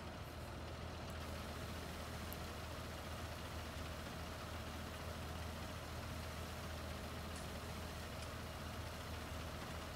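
A Fendt 930 tractor engine idles in the Farming Simulator 19 game, a steady, continuous low diesel rumble at constant level for the whole stretch with no talk over it.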